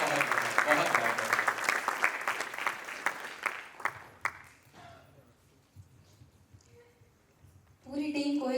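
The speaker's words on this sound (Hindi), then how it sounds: "आप सभी के लिए बहुत जोरदार तालियां" A theatre audience applauds at the end of a stage play, loud dense clapping for about four seconds that thins and dies away into near quiet, before a voice begins speaking at the close.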